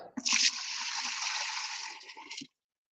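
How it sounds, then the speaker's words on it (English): Mead poured into a sanitized vessel with a spigot, a steady close rush of liquid lasting a couple of seconds that starts with a splash and stops abruptly. "I sanitized this all earlier, and we're just going to pour this right in."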